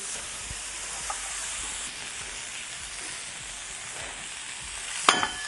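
Leek, broccoli and zucchini sautéing in a frying pan without added fat, a soft continuous sizzle and hiss with a sharp utensil clatter near the end, close and fairly quiet.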